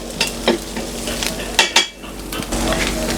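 Onion and ginger sauté in a pan for pork adobo, a steady sizzle punctuated by several sharp scrapes and clinks of a utensil stirring against the pan, close and fairly loud, with no talking.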